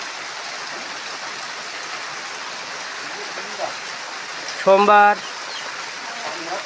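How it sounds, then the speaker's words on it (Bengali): Steady evening rain pours in a constant wash of hiss, close and fairly loud, with a voice speaking briefly over it near the middle. "বৃষ্টি হচ্ছে শুরু, সন্ধ্যা সন্ধ্যা ভাব"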